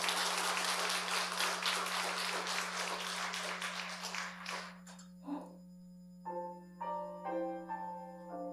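A church congregation at a Sunday worship service gives encouraging applause, a dense burst of clapping for about four seconds that fades out, followed by soft piano-like notes and a low steady hum.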